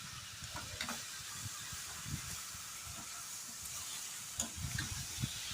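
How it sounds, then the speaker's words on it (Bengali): Mango jelly cooks in a pan with sugar while being stirred, giving a soft, continuous sizzling hiss broken by intermittent scraping thumps of the spoon, fairly quiet and close, with no talking. "ভালো করে নাড়াচাড়া করে নিচ্ছি যতক্ষণ না চিনিটা পুরোপুরি আমের সাথে মিশে যায়।"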